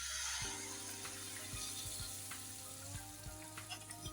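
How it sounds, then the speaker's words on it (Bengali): Sizzling fried spice masala for a gulsha and tengra fish curry as water is poured in, a steady broadband hiss with scattered stirring clicks, close and continuous. "এখন আমি মশলাটা সাঁতলানো হয়ে গেছে, এখন আমি তাতে দিয়ে দিব জল।"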